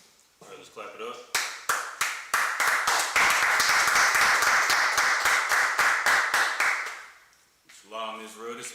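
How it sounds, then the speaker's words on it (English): An audience at a class claps in a fast, loud, rhythmic burst that swells into dense, sustained applause, then fades away as a voice begins speaking. "Clap it up."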